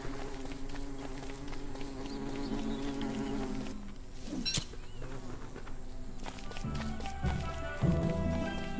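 Bees buzzing in Don't Starve Shipwrecked, a steady insect drone running throughout beneath layered game music and effects, with a brief sharp burst midway.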